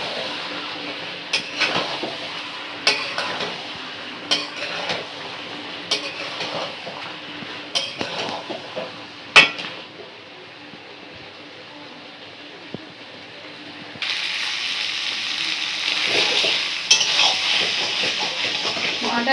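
Fried potatoes go into a mutton curry with a hissing sizzle and scattered utensil clinks as it is stirred, then the sizzle swells louder and steadier toward the end.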